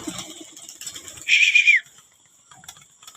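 Racing pigeons released from a loft, a short burst of fluttering wings and bird sound near the middle, otherwise quiet with faint background ambience.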